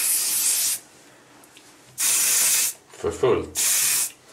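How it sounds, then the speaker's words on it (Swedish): Hairspray hisses from an aerosol can onto a child's hair at a crazy hair day in three long bursts, each less than a second, close and loud, with brief talk between them. "Mycket hårspray som behövs för den här bilden alltså"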